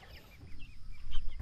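Native chickens clucking nearby in short, uneven bursts over a low outdoor background, growing a little louder toward the end.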